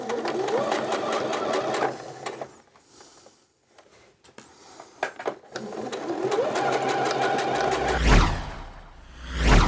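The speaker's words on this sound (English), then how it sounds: "And now we need to do a line of stitching along this top part of the waistband," A sewing machine runs a line of stitching along the top of a skirt waistband, a loud, steady motor hum with a brief stop midway before the stitching starts up again.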